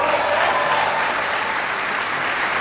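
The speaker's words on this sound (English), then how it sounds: "Give Joe a big round of applause." Audience applause fills the room for a new military commander at a formal event, steady and dense from start to finish.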